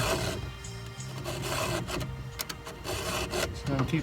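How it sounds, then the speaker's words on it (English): A hand file swiped along a chainsaw chain during timber harvesting: rough rasping strokes up close over a steady background hum, with brief scrapes standing out. "So you do 4 swipes the full length of the file."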